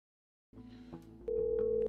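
A telephone line picking up after silence, then a steady electronic ringback tone sounding as a call is placed to parents, with faint background murmur.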